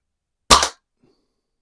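Quackenbush No. 1 air gun fired once, a single sharp, loud, close crack that cuts off quickly, followed by silence.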